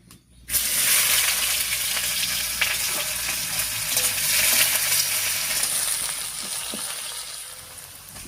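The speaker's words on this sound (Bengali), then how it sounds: "ফোড়নটা ভাজা হয়ে গেছে, এবারে দিয়ে দিচ্ছি বেশ খানিকটা পেঁয়াজ কুচি" Chopped onion drops into hot oil with fried whole spices, setting off a loud, steady sizzle that continues close up with faint stirring scrapes throughout.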